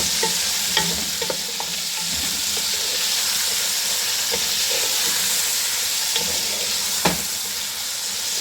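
Chicken and onions fry in a pan, sizzling steadily and loudly, with occasional light scrapes and clicks as the food is stirred. No talking.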